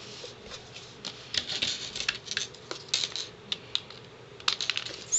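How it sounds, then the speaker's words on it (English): Scissors snipping off the ends of a ribbon on a handmade tea-time card give a run of small, crisp clicks and cuts at close range, irregular and fairly quiet, with no talking. "Snip off the ends."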